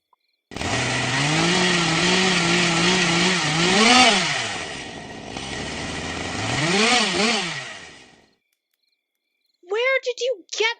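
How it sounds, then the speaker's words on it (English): A loud chainsaw drone rises and falls in two long revving surges, then cuts out; after a pause, a voice speaks briefly. "I knew the forest was dangerous, so I figured it'd be best to bring my chainsaw."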